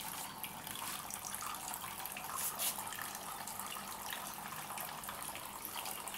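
Evening garden watering from a water pipe, a steady, even hiss of running water that continues unbroken throughout, fairly quiet and without voices.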